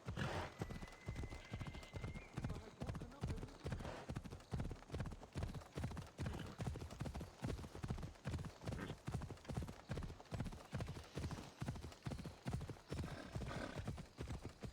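Steady galloping hoofbeats of a horse in the video game Assassin's Creed Odyssey, a fast, even clip-clop rhythm that runs loud and unbroken throughout, with one brief whinny near the start.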